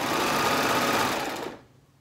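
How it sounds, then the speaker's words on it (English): A serger stitches a stretched knit neckband in a steady, close, loud whir for about a second and a half, then winds down and stops. "I'm gonna stretch that a little bit and serge."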